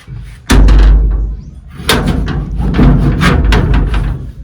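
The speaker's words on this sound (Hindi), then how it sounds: "लो जी दरवाज़ा बंद कर दिया।" A door is slammed shut with one loud, heavy thud, followed by rattling and scraping as it settles, then a run of further bumps and knocks close by.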